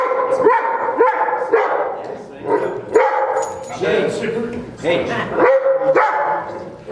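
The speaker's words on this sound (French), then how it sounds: "il y a un chien en bas" A dog barks repeatedly in a steady series of sharp, loud barks close by, filling the whole stretch.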